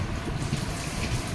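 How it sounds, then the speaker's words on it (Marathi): Water running steadily from a tap into a bathtub or bucket at home, a soft continuous gushing with no break, fairly quiet and heard alone. "पाण्याचा आवाज येईन तर"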